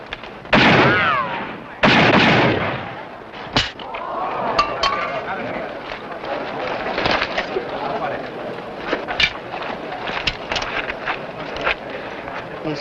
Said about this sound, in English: That's pretty good shooting